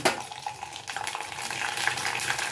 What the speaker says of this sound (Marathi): हे बघा आता हे आपलं तेल आणि तूप पण तापलेलं आहे तर आपण ना थोडे थोडे करून हे साबुदाने टाकणार आहोत